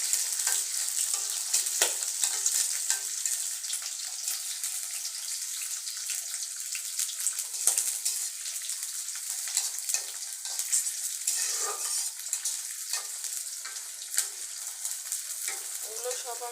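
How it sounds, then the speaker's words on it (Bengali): Bottle gourd peel frying lightly in a pan gives a steady close sizzle, with stirring scrapes and crackles running on without a break, no speech. "ভেজে নেব। একদম হালকা করে ভেজে নেব।"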